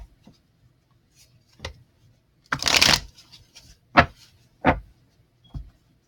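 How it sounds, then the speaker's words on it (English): Tarot cards being shuffled by hand, heard as a longer riffling burst and several short crisp slaps and taps, close and clear, with no talking. "3 more shuffles and then we will spread them out and use them as clarifiers"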